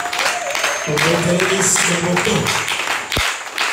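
A congregation at a church seminar assembly in Muanda applauds steadily, a dense wash of clapping mixed with a voice speaking and calling out over it.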